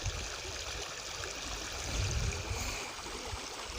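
Water flows steadily in a small, heavily altered river in Ziro, a soft continuous rushing wash with a low rumble, fairly faint and unbroken.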